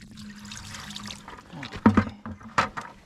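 Water is poured from a bucket into a Red Lion semi-trash pump to prime it: quiet trickling, then a few short, sloshing splashes at close range.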